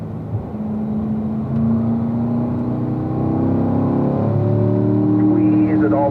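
A car's engine drones and climbs steadily in pitch as it accelerates on a track up through the gears to fourth, close and continuous under a voice talking.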